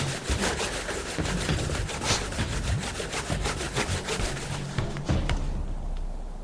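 Wood saws back and forth against wood to build a friction-fire ember, a loud, steady rhythm of rasping strokes repeating over several seconds with no voices.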